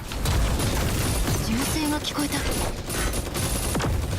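Robots fire at each other in a PUBG-style Gundam video game, producing dense, continuous rapid gunfire with rumbling blasts, loud and busy throughout, while voices talk over it.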